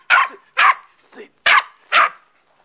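An angry dog barks five sharp, loud times at close range in a quick, uneven rhythm, with short gaps between barks.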